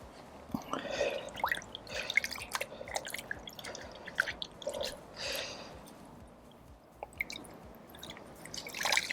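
A wet car-detailing cloth is rinsed in water, giving repeated close splashes, drips and squishy wringing sounds in irregular bursts, fairly loud and with no talk.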